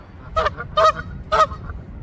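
Geese by a city canal honk three times in quick succession, loud and close, over a low background rumble.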